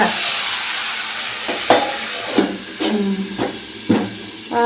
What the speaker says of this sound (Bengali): হলুদ দিয়ে এখন বেগুনটা আর ফুলকপিটা হবে ভাজা